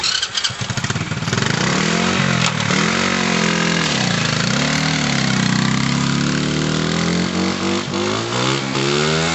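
A moped engine runs loud and close for the whole stretch, its steady motor note rising and falling in pitch as the throttle is worked, with no talk over it.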